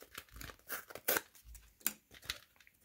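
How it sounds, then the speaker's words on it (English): Tearing open plastic-and-card packaging for a SanDisk 512 GB microSD card, heard as a series of sharp, close rips and crinkles in bursts over a few seconds, with no talking. "Let's rip open from here."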